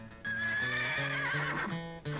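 A horse neighs loudly alone, a long whinny that rises and falls over about two seconds with a short snort-like burst at the end.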